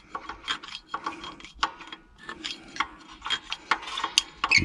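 Parking brake adjuster cog on a Toyota Land Cruiser or Lexus GX470 being turned by hand, giving faint, irregular ratcheting clicks in short bursts with pauses between.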